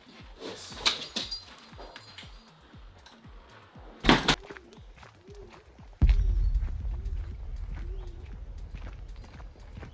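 A house dog about to be taken out makes soft whimpering sounds among scattered footsteps and clattering taps indoors, then a heavier low rumble of movement joins it, with no talking.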